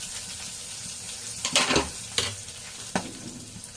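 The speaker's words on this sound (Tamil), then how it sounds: "2 ஸ்பூன் உளுத்தம் பருப்பு, அது கொஞ்சம் நல்லா பொரியட்டும்." Urad dal crackles and sizzles in hot sesame oil, a steady frying hiss with a few louder stirring scrapes and pops.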